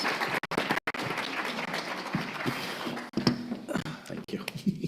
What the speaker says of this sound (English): A round of applause for my panelists.